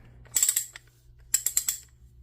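Antique socket wrench with a ratchet mechanism being turned by hand, two bright bursts of rapid metallic clicks separated by a short pause, close and clear over a faint hum.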